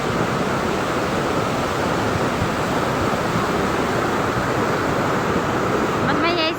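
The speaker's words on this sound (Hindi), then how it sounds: "देखें ज़रा इस तरह से बहुत भयंकर नदी आ रही है।" A fierce mountain river rushes past in a loud, dense, unbroken roar close by, with no pauses or clear voices.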